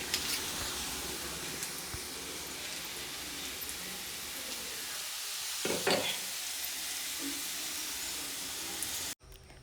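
Beef frying in coconut oil with coconut pieces, sliced onion and green chilies, a steady dense sizzle and hiss with occasional stirring scrapes, close and continuous before it cuts off abruptly at the end.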